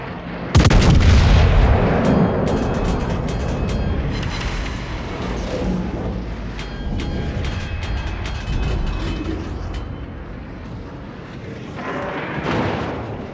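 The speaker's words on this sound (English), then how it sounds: "Concentrate fire on the enemy warship." Heavy naval artillery salvos from warships in World of Warships, the Francesco Caracciolo battleship among them, boom loudly with an initial deep blast, then rolling gunfire and booms continue through the clip, with no talk.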